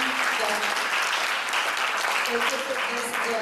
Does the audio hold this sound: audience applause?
yes